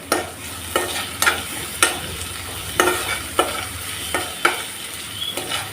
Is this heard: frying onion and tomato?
yes